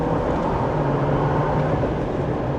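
A 2025 Jeep Wrangler 4xe in hybrid mode and second gear accelerates hard, giving a loud, continuous engine and road roar with a steady low drone heard from inside the cabin.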